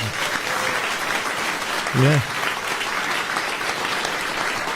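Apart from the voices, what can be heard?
studio applause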